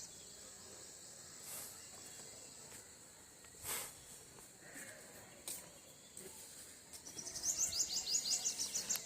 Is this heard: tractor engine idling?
no